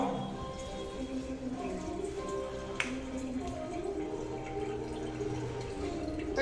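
Water runs steadily from a household tap into a sink, a soft continuous trickle with a brief splash midway, under low background noise and faint voices.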